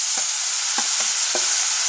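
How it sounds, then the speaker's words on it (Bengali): Mashed ridge gourd sizzles steadily in a hot pan with a bright frying hiss, while four soft spatula scrapes and stirs come at an uneven rhythm, close by. "মাখা ঝিঙেটা দিয়ে দিলাম"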